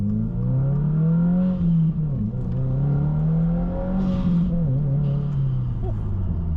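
Engine of a Subaru WRX tuned with a Cobb Accessport pulling hard from inside the cabin, a loud droning tone that climbs through gears with brief dips at each shift.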